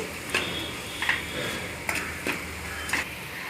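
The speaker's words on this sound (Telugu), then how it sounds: "ఇలా గరిటెతో తిప్పుకోవాలి" A ladle stirs sliced onions with salt, chili powder and turmeric in a pan, making a few sharp metallic scrapes and taps over a soft sizzle.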